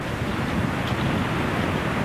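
Yosemite Falls in Yosemite National Park, the tallest waterfall in North America, roars as a dense, steady, broadband rush of falling water and spray, loud and unbroken, with no voices.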